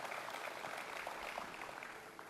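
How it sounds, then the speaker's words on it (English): Applause from an audience at a New York North Country airport funding announcement with Gov. Kathy Hochul, greeting Assemblyman Ken Blankenbush. A steady, dense patter of many hands, fairly faint and even throughout. "Let's give him a round of applause"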